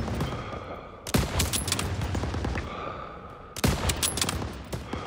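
Machine gun fire in Call of Duty WWII during a wartime battle in a town square, with two loud bursts of rattling automatic fire over a constant roar of distant gunfire and explosions.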